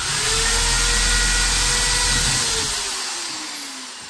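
A power drill bores screw holes into a brick wall while battens are fitted for terrace paneling, a loud close whine that holds steady and then winds down as the motor slows, with no talk.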